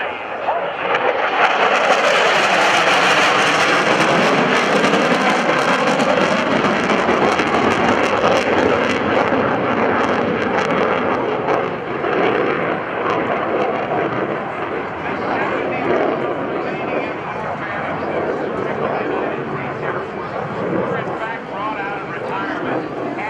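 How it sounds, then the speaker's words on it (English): A loud, sustained roar of an airplane engine overhead at an airshow, broad and rushing, gradually easing slightly as the aircraft passes; a voice speaks faintly under the noise. "this is the airplane we see today, flown by Lt.Col Wayne"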